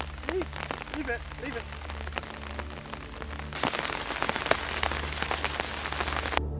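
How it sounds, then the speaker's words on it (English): Heavy rain drums on a camper's tent during a violent storm in New Zealand's mountains. A dense, steady patter grows noticeably louder and harder partway through, with a faint voice briefly audible near the start. "A camper climbs into New Zealand's mountains just as a violent storm arrives. Heavy rain, thunder, and freezing wind"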